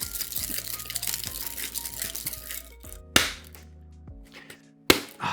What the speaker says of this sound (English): Give it a little whip shake. And you wanna just like shake it until you hear the ice pretty much completely melted.